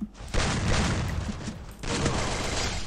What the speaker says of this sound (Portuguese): dei um tiro no Turzinho.